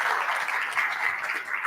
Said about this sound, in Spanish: Primero un aplauso a los moderadores que nos hicieron.